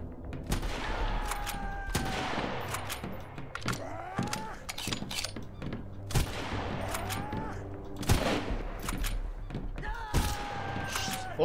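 Gunfire in the Sunkenland video game, rapid bursts of shots and sharp cracks spread across the clip, with thuds and mechanical whirs between volleys.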